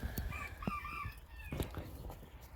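Pheasant chicks peep and chirp inside a large indoor rabbit cage on a small farm, high thin calls repeating close by over a steady background hum, with occasional soft knocks.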